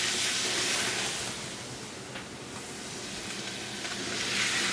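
A pan that held seared scallops hisses and sizzles loudly as white wine hits it for deglazing, a dense close steamy crackle that eases briefly midway and then swells again.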